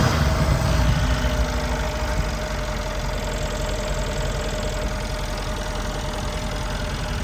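A fully rebuilt Mercedes E63 AMG engine with new pistons, bearings and rebuilt cylinder heads, previously suffering low compression in one cylinder, idles steadily with an even mechanical hum and fine ticking, heard up close and alone.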